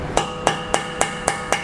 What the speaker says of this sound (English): Hammer it in a smidge